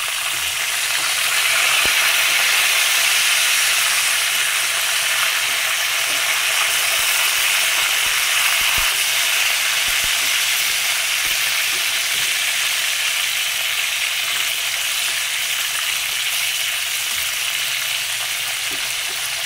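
Tilapia frying in oil in a pan, a steady dense sizzle running continuously and loud throughout, with occasional faint clicks and knocks of the pan.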